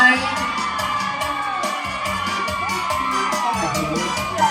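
A concert crowd at a show at the 100-year Red Cross fair cheers and shouts loudly and steadily over band music with a regular thumping beat.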